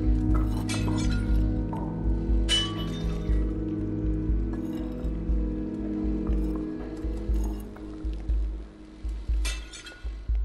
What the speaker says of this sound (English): The sound of breaking glass.